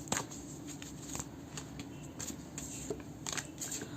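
A tarot deck is shuffled by hand, close crisp riffles and soft slaps of cards repeating in uneven bursts at a low level, with no talk.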